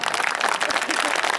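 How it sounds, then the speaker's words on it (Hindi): Loud audience applause with cheering voices from a crowd at a devotional Rajasthani narration of Krishna's butter-stealing and Govardhan puja in Sujangarh, dense and continuous through a short burst. "जोरदार तालियां"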